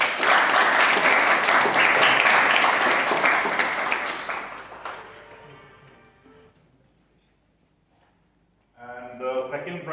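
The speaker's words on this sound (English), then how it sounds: "Big round of applause." Audience applause at a bilingual debate competition, loud and dense for about five seconds, then fading to near silence before a voice speaks.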